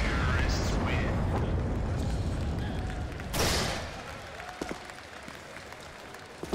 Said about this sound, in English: Some polite applause for the bomb explosion there.